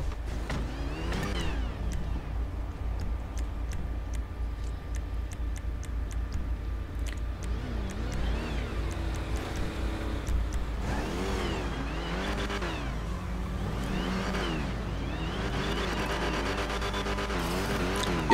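Dodge Hellcat engine in GTA V FiveM, a low steady idle rumble that builds into repeated revs and accelerating engine sweeps in the second half, with some ticking in the background.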